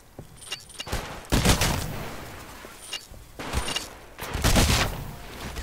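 Bursts of rapid gunfire crackle in several volleys in the video game Titanfall, loud and close, separated by brief pauses, with no speech.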